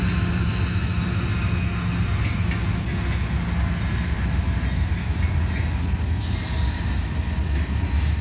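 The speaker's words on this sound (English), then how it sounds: "got the Abbeville switcher coming in" The Abbeville switcher locomotive rolls in with a steady, loud rumble and low engine drone that holds without a break, freight cars of wood and granite nearby, no talking.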